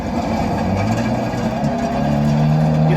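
From inside a car fitted with a ButtKicker BK-Mini-CT concert transducer, the exhaust gives a steady low drone while driving, and the engine note rises slightly toward the end with no speech.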